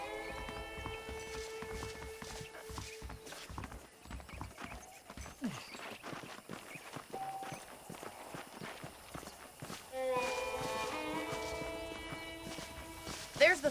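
Horses clip-clopping in the Western video game Red Dead Redemption, a steady run of hoofbeats at moderate distance under game music and characters talking.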